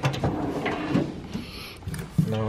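A garage tool drawer holding ratchets, extensions and screwdrivers slides open with a run of rattling, clattering metal and sliding scrapes, close and moderately loud.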